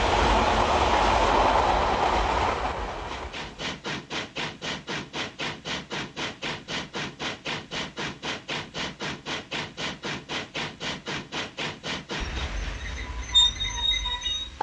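A locomotive-hauled train passes close by, its wheels beating out a long, even clickety-clack across the rail joints for most of the stretch, with a rumbling approach before it and a fading rattle after it goes by.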